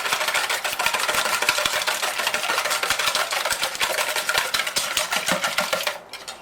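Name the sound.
whisking six eggs in a bowl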